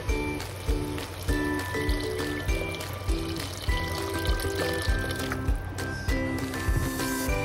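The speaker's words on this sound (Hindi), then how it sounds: "तो आप देख सकते हैं उबाल आ गया हमारा अच्छे से।" Water at a rolling boil in a cooking pot for vegetable biryani, a steady bubbling and churning with a continuous busy texture, close and fairly loud, with a faint background hum and no talking.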